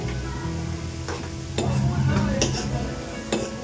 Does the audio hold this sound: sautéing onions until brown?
yes